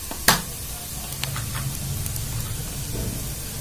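Onions frying in a pan with turmeric and red chili as part of a savory dalia recipe: a faint, steady sizzle with one sharp clink near the start and a few light taps.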